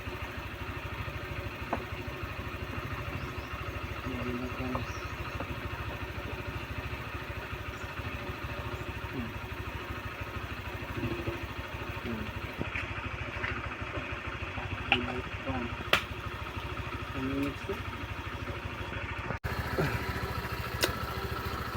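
A Honda Click scooter engine idles steadily at close range, a low continuous hum with faint mechanical clatter and a few sharp ticks near the end.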